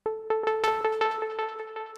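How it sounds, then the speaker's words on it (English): A single bright tone repeats in a quick, steady series of echoes, each repeat slightly softer, trailing on for about two seconds. "So if I were to play the sound with just the default delay,"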